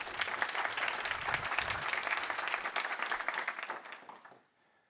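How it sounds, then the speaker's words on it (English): Sustained audience applause for a conference speaker about to present on a digital twin of an organization, dense steady clapping that fades out near the end. "Round of applause."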